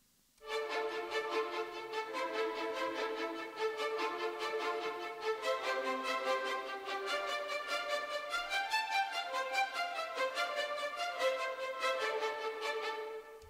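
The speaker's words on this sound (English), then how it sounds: "if I only put the violins and then the celli" Orchestral strings, violins and celli, playing a spiccato progression in a cinematic adventure action track, bright bouncing short bowed notes in a fast steady rhythm with shifting harmonies, fairly soft and without talk.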